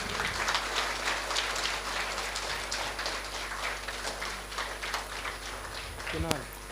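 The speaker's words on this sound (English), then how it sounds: "Little louder applause." Audience at a prize distribution for a Bhagavad Gita contest applauding a first-prize winner, dense steady clapping throughout over a constant low hum, with a brief voice or squeak near the end.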